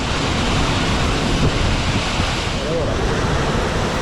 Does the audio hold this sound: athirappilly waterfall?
yes